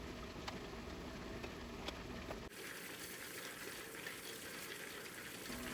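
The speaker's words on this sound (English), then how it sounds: "It's time to give the rocks a rinse and a quick look." Tumbled rocks are rinsed under running water, a faint continuous gushing and splashing that shifts in tone partway through and carries on steadily with no pauses.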